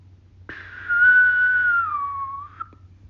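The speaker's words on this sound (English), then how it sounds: "You could hear a whistle" A single clear whistle rises sharply, holds a steady tone, then slides gently downward before cutting off, loud and close against a low hum.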